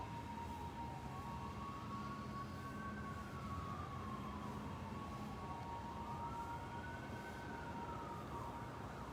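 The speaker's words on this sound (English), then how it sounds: "Nothing like the sound of an ambulance or the background to calm your mind" A faint, distant ambulance siren wails up and down in slow sweeps over a steady background hiss, with no talking.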